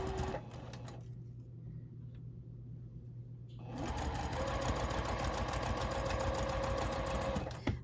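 Sewing machine stitching quilt fabric along a drawn diagonal line, a rapid mechanical chatter that runs briefly, pauses for a few seconds, then resumes for a longer, steady, close run before stopping.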